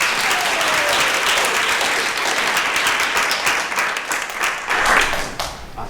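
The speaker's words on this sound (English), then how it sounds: "Can you guys give yourselves a round of applause?" A room full of people applauding themselves at a youth diversity talks event, dense sustained clapping that stays loud and even throughout with no talking over it.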